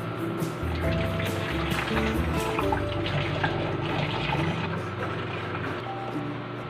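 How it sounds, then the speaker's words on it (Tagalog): Water pours steadily into a bottle being filled for a homemade aerator built from recycled materials, a continuous close rushing and gurgling with no talk. "Lalagyan natin ang isang bote ng tubig."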